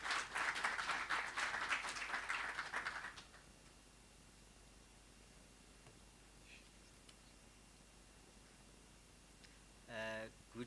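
Applause from the audience at an Annual General Meeting (AGM) for a speaker, moderate clapping for about three seconds that stops abruptly, followed by quiet room tone and a brief noise near the end.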